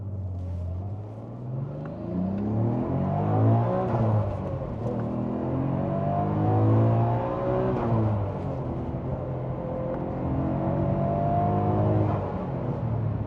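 A stock car fitted with a catback exhaust accelerates hard through several gears, its engine note climbing, dropping at each shift and rising again, loud and close with no talking.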